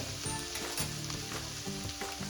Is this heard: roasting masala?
yes